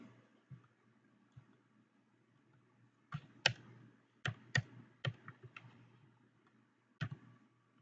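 Quiet, close keyboard typing on a computer: a few isolated taps, then a brief irregular burst of sharp key clicks over a faint steady hum.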